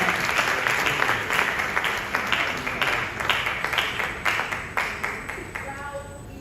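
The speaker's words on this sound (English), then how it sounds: "A round of applause for her." Applause from a conference audience at a women's event in Accra, dense and steady clapping filling the room, gradually thinning toward the end.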